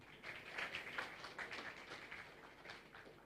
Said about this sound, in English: Another round of applause for Mrs. Wilson.